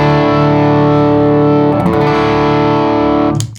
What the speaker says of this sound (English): Now with the boost pedal afterward, you'll notice it doesn't get a lot dirtier